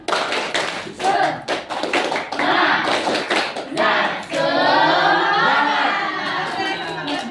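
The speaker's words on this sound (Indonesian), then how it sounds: "Gimana tepuk semangat? Tepuk semangat." A classroom group performs a rhythmic clapping chant, the tepuk semangat, with sharp patterned claps, voices chanting along and a louder stretch of group cheering toward the end.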